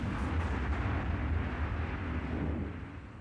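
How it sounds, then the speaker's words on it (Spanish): A deep, booming film explosion from Jason Goes to Hell: The Final Friday rumbles loudly from the start, then slowly fades away into a dull roar. "pero una explosión acaba el trabajo"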